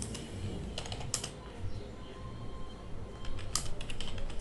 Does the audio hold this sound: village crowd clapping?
no